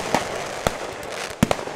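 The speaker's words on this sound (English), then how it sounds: "Another year, another firework." Fireworks go off in a series of sharp, close cracks and pops, about four distinct bangs at irregular intervals over a rushing, crackling background.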